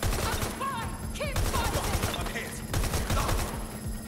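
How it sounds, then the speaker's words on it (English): Rapid automatic gunfire in Watch Dogs: Legion, dense bursts of shots rattling continuously and loudly, with scattered electronic game effects and a voice partly underneath. "It's a gun."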